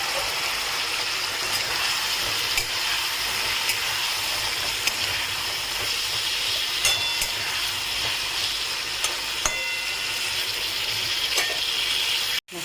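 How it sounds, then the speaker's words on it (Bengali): Ridge gourd sautéed with spices in oil in a pan, giving a continuous loud hiss and sizzle with a few faint clicks of a utensil, close up and without talk until an abrupt cut at the end. "তখন আমি এই ঝিঙেটা দিয়ে এবারে একসঙ্গে ভালোভাবে কষাবো।"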